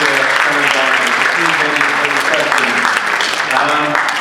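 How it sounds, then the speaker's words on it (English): A round of applause from the audience for author Tuvia Tenebaum at an interview event at the Begin Center, a loud, sustained patter of clapping lasting several seconds, with voices talking over it. "a big round of applause for"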